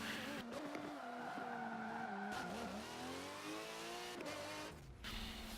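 Aston Martin GT3 race car in Forza Motorsport 7 skidding with sustained tire squeal over a steady high-revving engine drone, loud and close, no talking.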